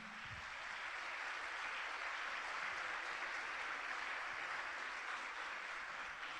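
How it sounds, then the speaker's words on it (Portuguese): A church congregation applauds young people during a Catholic gathering, a steady, broad wash of clapping that holds evenly throughout, fairly distant and diffuse with no voices standing out. "pode aplaudir a eles"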